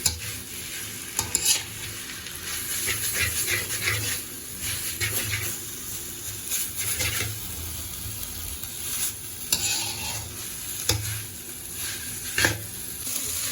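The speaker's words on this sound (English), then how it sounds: "So just stir it gently so that the noodles don't break apart." Mamak-style mee goreng, yellow noodles in gravy, is stirred gently in a pan, with a continuous sizzle under repeated scraping and stirring strokes and occasional utensil clinks, close and fairly loud.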